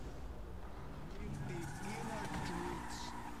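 A Rapid GT sports car accelerating hard in Grand Theft Auto V, the engine note rising and wavering steadily through the run, with someone talking over it throughout.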